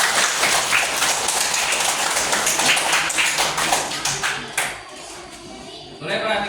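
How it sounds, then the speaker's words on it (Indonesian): A class of students clapping their hands together, a dense, steady burst of many hands at close range that thins out and fades after a few seconds. "Baik, tepuk tangan kalian semua."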